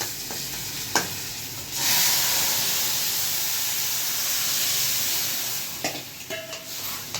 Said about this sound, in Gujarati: આ હિંગ નાખી જરા. આ છે ને લસણ છે.